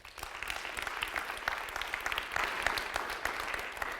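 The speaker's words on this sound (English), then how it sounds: "Big round of applause" A crowd at a startup launch event gives the sponsors a big round of applause, sustained dense clapping with scattered louder hands close by, holding steady throughout.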